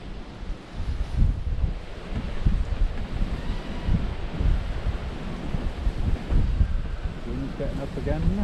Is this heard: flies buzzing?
no